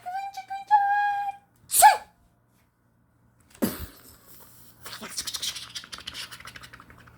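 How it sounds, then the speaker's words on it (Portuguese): One big, sharp sneeze explodes out of near silence, loud and close, followed by scratchy rustling and patter; earlier a high tonal whistle-like sound and a brief burst come before it. "quando senti outro espirro vindo lá de dentro. Ai, é grande."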